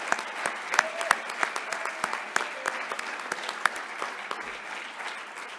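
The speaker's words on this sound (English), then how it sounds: "Can we all give one more round of applause for all of our winners?" Audience applause at the 2021 40 Under 40 awards ceremony for the winners: a steady wash of many hands clapping, with sharp individual claps standing out, holding at an even level throughout.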